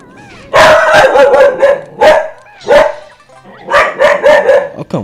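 A dog barks loudly and close in a rapid series of sharp barks mixed with yips and a brief whine, filling the whole stretch without pause for talk.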